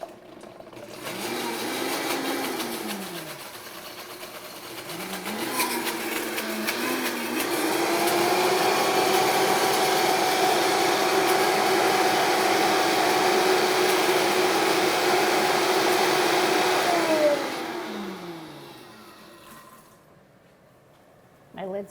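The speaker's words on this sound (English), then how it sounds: "Let's blend this up." A kitchen blender whirs through salad dressing ingredients, motor ramping up in pitch, holding a loud steady roar for several seconds, then winding down and stopping.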